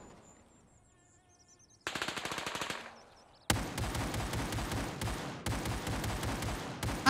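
SKS rifle fire in the video game Gray Zone Warfare crackles out in loud, rapid shots, starting after a quiet stretch and continuing in dense bursts with a short pause between them.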